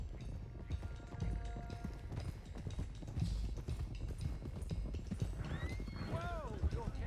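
Horses gallop in Red Dead Redemption 2 with a steady clip-clop of hooves and occasional whinnies, heard amid outdoor game ambience.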